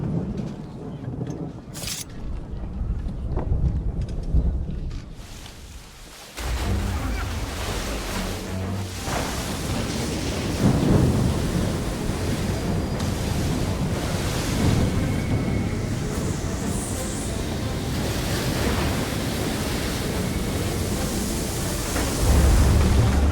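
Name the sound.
storm with thunder, rain and waves at sea in Assassin's Creed III video game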